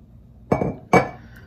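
Two sharp glassy clinks sound close by as a bottle of Italian red wine is opened and its cork breaks.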